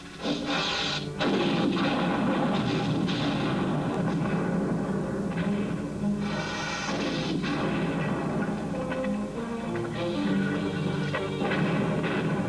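A musket volley fires as loud, harsh blasts and crashes that ring on through a dense, noisy stretch, with no speech heard.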